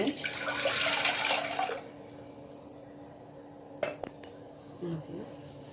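Water pours steadily into a metal pressure cooker on a gas stove for about two seconds, then stops, followed by a couple of light clanks and faint kitchen noises.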